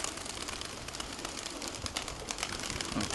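Pigeons coo softly amid a busy, noisy background of rustling and flapping, the calls low and repeated without any talking.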